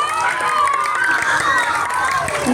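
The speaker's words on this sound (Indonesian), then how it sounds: "beri tepuk tangannya dong" Crowd at a school Christmas celebration claps and cheers, a dense, loud wash of applause with shouting children's voices over it, continuing for the whole stretch.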